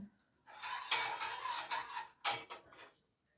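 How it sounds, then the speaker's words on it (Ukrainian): Yeast being whisked into milk in a bowl while making milk buns, a few bursts of rapid scraping and clinking from the whisk against the bowl, close and alone, with short pauses between strokes. "Переколочуємо дрожжі."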